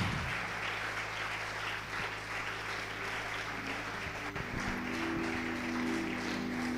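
Church congregation applauding during a French and Lingala evangelism service, a steady sustained wash of clapping with a low sustained organ or keyboard tone underneath and a brighter held note entering near the end.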